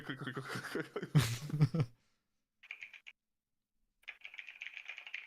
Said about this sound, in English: Damn mechanical keyboard.